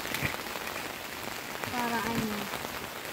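Steady rain patters at a campsite, a soft dense hiss of drops on surfaces throughout, with a brief voice-like tone partway through.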